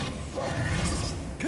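Reparo repair spell in Hogwarts Legacy, a short magical mechanism sound of clicking, ratcheting and tinkling debris pieces reassembling, with a brief swish at the end, over steady game ambience.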